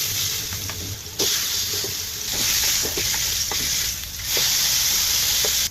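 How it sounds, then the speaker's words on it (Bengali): Marinated rohu fish fry in oil in a pan, a steady hissing sizzle with a few sharp crackles and pops, swelling louder in stretches, with no one talking. "মাছগুলো ভাজা হয়ে গেছে, এবার নামায় নেব।"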